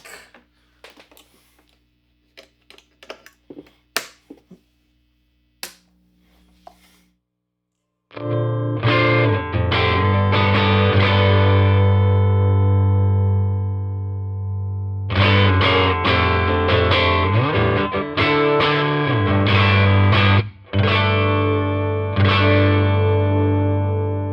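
An electric guitar plays through a Vox AC4 hand-wired amplifier, starting with a few quiet clicks and taps before loud distorted chords ring out in sustained bursts with brief gaps between them.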